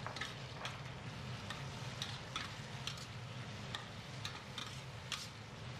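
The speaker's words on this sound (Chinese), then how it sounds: "再倒入切好的青红椒丝和洋葱丝进去翻炒" Green and red pepper strips with onion stir-fried in a little oil in a wok, a soft steady sizzle broken by repeated ticking scrapes of the spatula.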